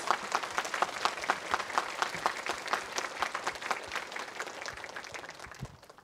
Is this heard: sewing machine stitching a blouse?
no